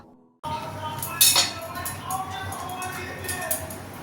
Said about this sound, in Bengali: ঢাকা দিয়ে রেখে দিচ্ছি